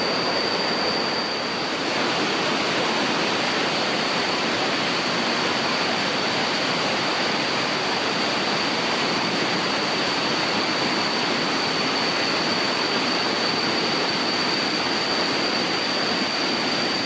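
Curug Cikanteh waterfall in Geopark Ciletuh, Sukabumi, fed by the Cikanteh River, a loud, steady roar of falling water that fills the scene without pause, with no one speaking.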